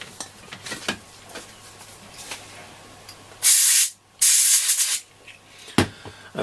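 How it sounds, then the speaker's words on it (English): Two loud hissing bursts of compressed air blast into the headphone socket of a Roberts R747 radio under repair, each lasting about half a second, amid faint clicks and handling noises. "I'm going to blow the headphone socket out with a bit of air."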